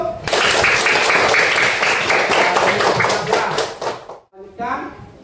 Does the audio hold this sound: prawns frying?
no